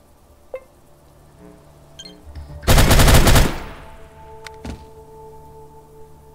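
A loud burst of automatic rifle fire from the video game ATOM RPG rattles off in rapid succession for under a second, framed by quieter game interface clicks and a metallic clink.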